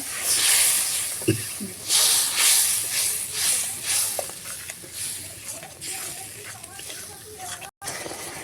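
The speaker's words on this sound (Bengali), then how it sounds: "দিয়ে ভালো করে মশলাটা একটু কষিয়ে নেব।" Spice paste with ginger-garlic water sizzles and hisses as it is fried in a pan for a chicken dish, a loud close crackle that swells and eases with stirring, briefly cutting out near the end.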